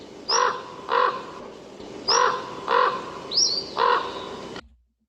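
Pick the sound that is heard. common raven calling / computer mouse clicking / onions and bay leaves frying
common raven calling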